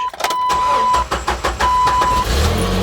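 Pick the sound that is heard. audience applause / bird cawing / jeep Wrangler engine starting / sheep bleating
jeep Wrangler engine starting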